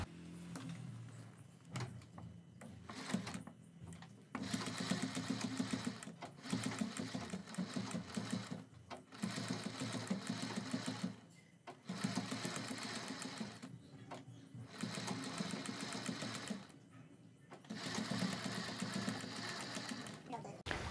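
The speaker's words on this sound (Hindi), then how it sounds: "इसके दोनों तरफ सिलाई लगाकर इसे अटैच कर दिया है" A sewing machine stitches a neck strip onto a kurti in several loud, sustained bursts, each run of buzzing stitches separated by short pauses.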